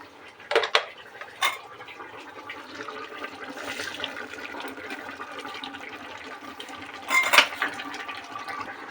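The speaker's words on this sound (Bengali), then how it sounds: "এবার এর মধ্যে আমি দিয়ে দেব মটরশুঁটিগুলো" Green peas tipped into a cooking pot while making tahari, a rice dish: a few brief clattering pours near the start and a fuller splash-and-rattle around seven seconds, with quiet kitchen background in between and no talking.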